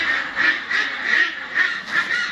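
Meat ducks at a farm harvest weighing quack in a steady pulsing chorus, with repeated nasal bursts rising and falling about every third of a second, close and fairly loud.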